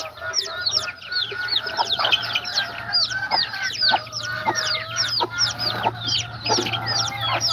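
Chickens at a farm cluck continuously in overlapping bursts, close and fairly loud, with a steady low hum running underneath.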